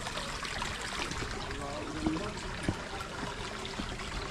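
Stream water flows across an outdoor path in a steady, close rushing trickle, broken by a couple of small splashes.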